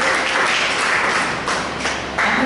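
Audience applause at a book launch for Dr. Prafulla Desai's books held at a national arts centre, sustained clapping from a crowd filling the room evenly for a couple of seconds, loud and close without any voices.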